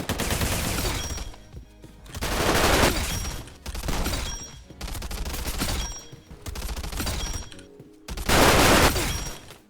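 Submachine gun fire from a video game weapon build during a close-range recoil test: loud, rapid automatic bursts, about five of them, separated by brief pauses, with no talking.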